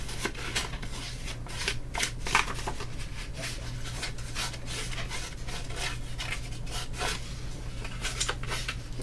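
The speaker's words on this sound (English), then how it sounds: "I used the ruler to just distress the edges just like so." Paper edges distressed by scraping a ruler along them for a layout, a steady close-up rubbing and rasping with repeated short strokes, no talk.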